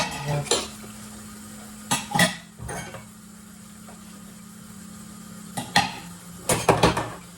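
Dishes being washed by hand at a sink, with scattered clinks and clatters of pots and cutlery in bursts over a steady running-water hum, close by, with quiet stretches between the knocks.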